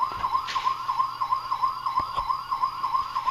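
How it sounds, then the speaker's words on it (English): A toy police car, a Christmas present, sounds its electronic siren in a rapid, steady warbling wail that repeats continuously, loud and close, with a few faint clicks and no talking. "It's a police car for a Juju pet."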